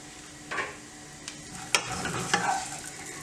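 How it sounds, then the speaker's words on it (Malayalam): Raisins are stirred into dry fruits roasting in a pan for dry fruit laddoo, giving soft scraping strokes, a few sharp clinks of the spoon and a faint sizzle underneath. "ഇനി ഇതിനകത്തോട്ട് നമ്മൾ എടുത്ത് വെച്ചിരിക്കുന്ന മുന്തിരിങ്ങ ഇട്ട് കൊടുക്കാം"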